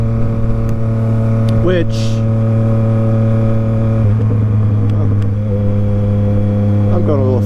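Tuned Yamaha MT-09 motorcycle ridden in power mode, its engine a steady loud drone with pitch shifting as it accelerates, wind noise throughout and a rider speaking briefly over it.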